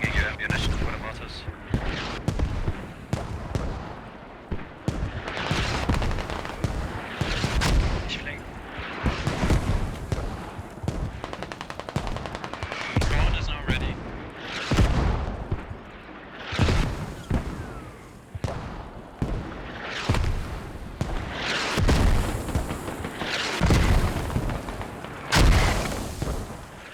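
Repeated heavy mortar impacts in the tactical shooter Squad, with deep booming explosions arriving every second or two alongside scattered gunfire, loud and sustained, with voices talking throughout.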